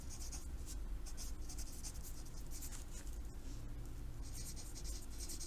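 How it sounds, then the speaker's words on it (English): Marker or pen strokes writing out the quadratic formula during a math lesson, a run of quick scratchy strokes close up and fairly faint, steady with brief pauses. "I'm just going to write this up here."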